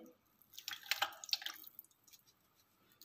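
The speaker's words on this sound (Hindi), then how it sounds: "ये वाला कप घी का डालेंगे" A cup of ghee poured into a cooking pot, a brief wet dripping and splashing burst in the first half, then quiet.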